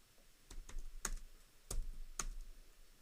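Keys tap on a computer keyboard in a few distinct, separated clicks, faint and close, with no talking.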